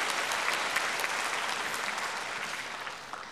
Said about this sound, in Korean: 우리 격려의 박수 부탁을 드리겠습니다.